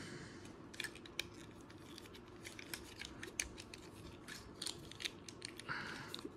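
A plastic Transformers Legacy Evolution Leo Prime toy is folded and transformed, giving a run of small, close plastic clicks, snaps and ratcheting joint sounds in irregular bursts, with no talking.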